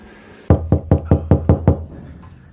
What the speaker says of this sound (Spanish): que tocan a la puerta, vamos a ver quién es.